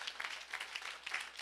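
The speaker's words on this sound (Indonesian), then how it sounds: "berikan tepuk tangan yang meriah" A sermon audience gives a short round of applause, with scattered, quiet, fairly distant claps in uneven bursts.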